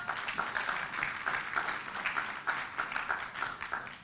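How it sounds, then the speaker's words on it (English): Audience in a church venue at an elections debate breaking into steady, even clapping that holds across the whole stretch, a dense patter of many hands without cheering or talk. "Round of applause for the church, please."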